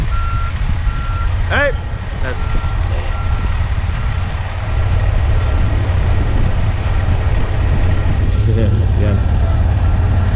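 A truck backing up sounds steady, loud reversing beeps over a constant engine rumble, with someone speaking briefly on a busy industrial lot.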